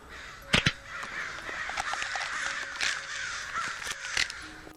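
Several crows caw loudly and repeatedly, with harsh overlapping calls clustered in bursts over a continuous raspy chorus, with no talk.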